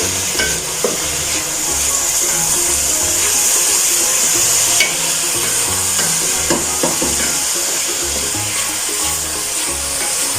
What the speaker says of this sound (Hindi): हम इसको तब तक फ्राई करेंगे जब तक अदरक लहसुन की एक रॉ सी कच्ची सी एक स्मेल होती है वो खत्म ना हो जाए